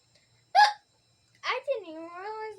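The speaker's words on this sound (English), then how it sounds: "I didn't even realize that I started hiccuping." Two sharp hiccups from a person playing with squishy fidget toys, the first a short isolated gasp, the second followed by a drawn-out voiced trailing sound, close and clear against silence.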